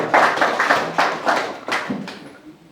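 Church congregation clapping together in a steady rhythm to acclaim the word of Jesus, loud and close, a run of sharp hand claps in a reverberant hall that trails off near the end.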